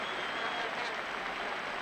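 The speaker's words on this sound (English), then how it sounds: "the Spanish crowd are generously applauding Trevor Francis" Spanish football crowd in a stadium at an England friendly applauding Trevor Francis, a steady, dense wash of clapping across the whole stretch, fairly distant and even without distinct peaks.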